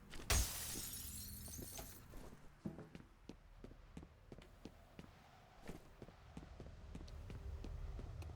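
Glass shatters in a city setting in a video game: one sharp, bright burst of breaking glass, then about two seconds of tinkling shards, followed by scattered light clicks and steps as the debris settles.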